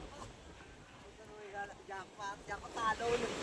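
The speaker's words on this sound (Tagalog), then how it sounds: "Lalaki ng alon, no?" Large ocean waves wash against the shore at a seafood fish terminal in Tanza, Cavite, a steady broadband roar with wind, heard under someone talking nearby.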